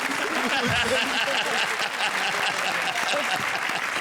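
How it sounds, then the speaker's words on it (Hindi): Studio audience applause on a Hindi comedy show, a dense, steady wash of many hands clapping at full strength from start to finish, loud and close with no speech over it. "So please welcome with a huge round of applause, Shane Shakeel."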